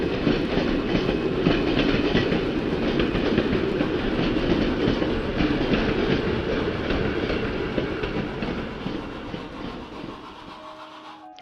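A long freight train rumbles steadily past with rhythmic clickety-clack of wheels on rails, loud and close, fading slightly at the end.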